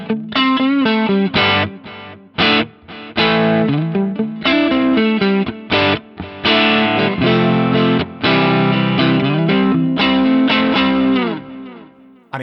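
Electric guitar played through an echo plate reverb with a delay effect, chords and single notes ringing out with long repeating tails and wash, loud and continuous without pauses.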